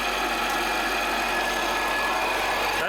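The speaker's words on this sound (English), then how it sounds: "It looks like the harmonic balancer is broken." A running car engine with a broken harmonic balancer gives a steady, continuous grinding drone with mechanical vibration, heard close up in the engine bay with no voices.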